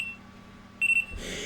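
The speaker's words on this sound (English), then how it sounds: "Okay, so the watch alarm has now rung." A Hearkend talking watch alarm gives a short, thin electronic beep, followed by a soft rustle.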